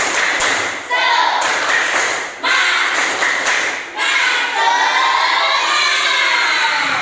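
Classroom of sixth-grade children doing the tepuk semangat clapping chant as an ice-breaker, loud rhythmic bursts of claps and shouted chanting voices repeating in several rounds, close and lively.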